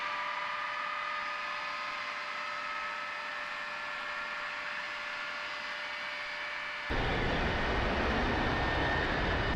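Aircraft engine spooling up in Microsoft Flight Simulator X: a steady whining turbine hum with tonal lines, then a sudden louder broadband roar as the second engine catches, close and continuous, with no talk.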